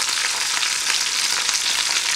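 Chicken frying in a pan gives a loud, steady, dense sizzle with crackling spatter throughout, close by and with no voices.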